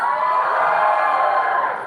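A crowd at a creator conference debate cheers and whoops for Bollywood, a loud sustained roar of voices that swells and then starts to fade.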